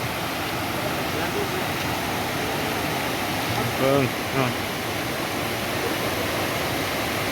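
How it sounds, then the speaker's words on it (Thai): Steady broadband rush of Tat waterfall cascading near a stairway on a damp, rainy morning, constant and fairly loud throughout, with someone briefly speaking over it midway. "น้ำตกตาด"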